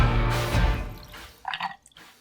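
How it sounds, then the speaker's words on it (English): Pimm's No. 1 pours over ice into a mixing glass, a burst of liquid splashing followed by a few short trickles and drips, close and moderately loud, with no talk. "I always love the sound of that pour."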